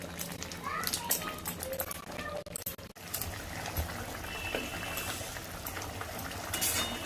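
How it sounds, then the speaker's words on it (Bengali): An egg curry simmers in a covered pot on a gas stove, giving a soft, continuous bubbling hiss with faint background noises and indistinct voices around it. "এখন আমি কিছুক্ষণের জন্য সিদ্ধ হওয়ার জন্য রেখে দেবো ঢেকে"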